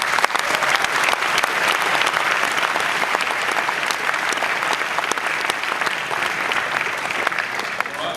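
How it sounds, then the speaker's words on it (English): Film premiere audience applauding the director Pete Travis at a Dredd screening Q&A, a loud, dense, continuous roar of clapping from a large crowd with scattered sharp claps standing out. "Let's give him a round of applause."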